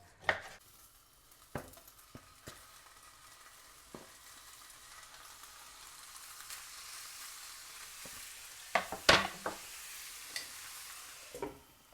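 Fresh pork pieces frying in a hot pan give a steady, faint sizzle, with scattered sharp clicks and scrapes of stirring and a brief louder clatter near the end; no one speaks.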